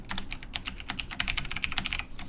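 Fast, steady typing of code on a computer keyboard, with dense crisp key clicks close up and no talking.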